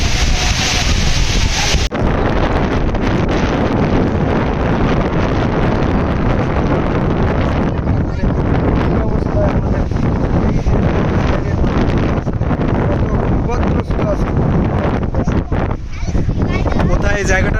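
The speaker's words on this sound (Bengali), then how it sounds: "বৃষ্টি শুরু হয়ে গেছে" Strong wind gusting over an open riverbank as heavy rain begins just before Cyclone Remal, with water churning on a rough river; a loud, continuous roaring wash with buffeting on the microphone throughout.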